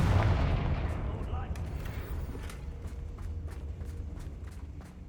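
A Confringo blasting spell in Hogwarts Legacy goes off with a heavy booming burst that fades into rumbling debris and a string of sharp crackling pops.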